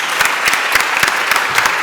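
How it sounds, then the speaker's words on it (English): Applause from a summit audience for a panel on climate litigation, a dense, fairly loud wash of clapping with distinct claps punctuating it in a quick rhythm across the whole short stretch. "so please do give them a round of applause."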